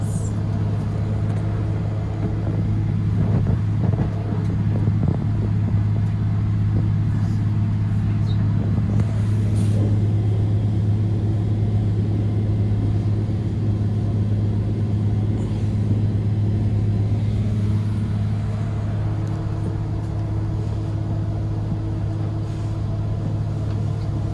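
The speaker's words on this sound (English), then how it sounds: "To the power of the Mercedes-Benz, we've almost reached the top of the very steep hill" Mercedes-Benz tour vehicle climbing a very steep hill on a lateral moraine at the Columbia Icefield, Alberta, a constant loud low engine drone and rumble under strain throughout, with no talk.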